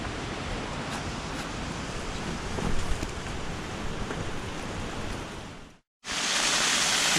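A hidden jungle waterfall near Guadalupe, Colombia roars as a steady, full-bodied rush of falling water. After a brief cut the roar returns even louder and closer, with no voices.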